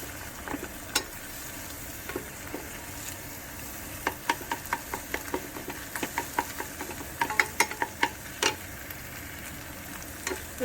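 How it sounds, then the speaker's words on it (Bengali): Egg frying in oil in a pan for bhurji: a steady close sizzle with frequent sharp pops and crackles spread across the whole stretch, and no one speaking. "ডিম ভাজতে দিয়ে দিয়েছি।"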